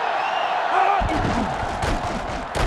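Stadium crowd in NCAA Football 2005 roaring and cheering, a loud, swelling wall of noise with thumping impacts, with game commentary voices over it.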